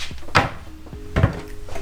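Wooden kitchen drawers in a college apartment slide and thunk shut twice, close and fairly loud, with a faint rattle between the two bumps and no talk.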